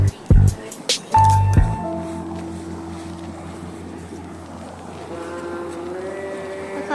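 A ship passes loudly on the River Ouse, its steady low engine drone and rumble carrying under wind noise after a few sharp bumps and brief voices at the start.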